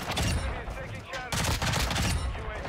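Burst-fire gunshots in Call of Duty MW2, with dense rapid volleys cracking loudly and continuously across the moment, only a brief dip midway before the firing resumes.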